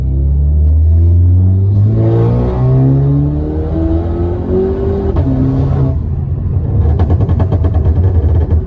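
A Volkswagen Polo 6 GTI accelerates hard on a circuit, close and loud, its engine note climbing through the revs, easing for a gear change, then revving up again.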